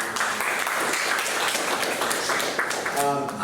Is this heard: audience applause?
yes